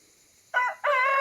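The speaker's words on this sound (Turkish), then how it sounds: "Baya bir zaman sonra tavukları salacağım." Two short bursts from a chicken, the second longer and fuller, with a rooster-like crowing quality, fairly near with quiet background between, outdoors in a forest.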